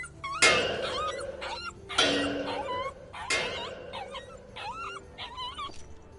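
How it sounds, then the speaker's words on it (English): A dog in the video game The Inquisitor whimpers and yips in a series of high, plaintive cries, close and fairly loud, with sharp effect bursts between them. "Where did you get this dog?"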